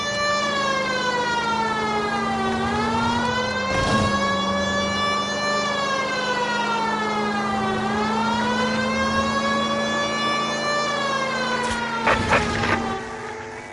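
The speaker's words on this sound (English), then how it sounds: "if you put the siren on, it'll let people know what's happening before you hit them" A police car siren from L.A. Noire wails loudly and continuously, rising and falling in long sweeping cycles over the steady hum of a car engine, with a brief clatter of impacts near the end.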